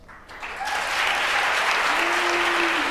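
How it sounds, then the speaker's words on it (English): Applause for Governor Janet Mills at her State of the State address to the Maine legislature. A large crowd claps steadily and builds to a full, sustained roar in a big hall, heard at a moderate distance. "That remark, as well as most of her speech, was applauded by Democrats"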